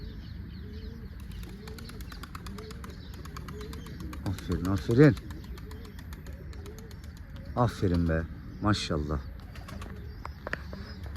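A racing pigeon sitting on its chick gives a few soft, low cooing calls, with two clearer bursts around the middle and later. The calls are near but modest in volume, over a steady background hum, and someone speaks between them.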